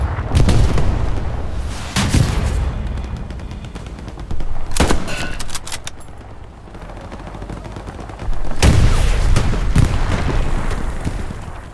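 Gunfire in the World War II shooter game Hell Let Loose: repeated loud shots and bursts, with sharp cracks near the start, middle and end and sustained rumbling fire between them, and no talking.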